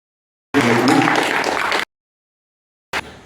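An audience at a public talk claps loudly in a burst just over a second long, breaks off abruptly, and a short faint patter returns near the end.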